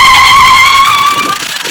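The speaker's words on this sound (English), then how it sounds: "Whoa, he's doing a burnout." A Grave Digger Monster Jam truck doing a burnout makes a loud, close squeal with a strong, ringing whine that holds briefly, then fades and wavers as the tires spin.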